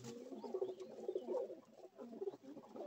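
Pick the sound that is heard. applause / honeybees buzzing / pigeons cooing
pigeons cooing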